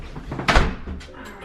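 A screen door closing in an apartment: a single quick thunk with a short rattle, near and fairly loud, then a quiet decaying tail.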